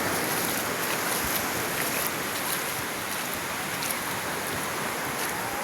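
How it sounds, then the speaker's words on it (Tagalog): Strong ocean waves at Baler beach make a constant, faint rushing wash of surf with small bursts of spray, steady and distant, with no voices heard. "Malakas po ang alon."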